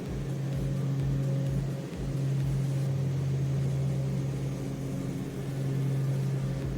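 A small aircraft engine holds a steady drone at about 2,000 RPM, with a low pulsing throb early on that settles into an even, continuous hum, heard close and alone.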